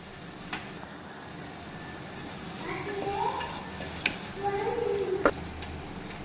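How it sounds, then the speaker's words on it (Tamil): Tomato biriyani mixture with curd being stirred in a pressure cooker, a spoon scraping and turning it in a few soft, uneven strokes over a low steady background, with faint sizzling. "இப்போ இது கூட தயிர் ஆட் பண்ணி நல்லா கிளறி விட்டுக்கலாம்."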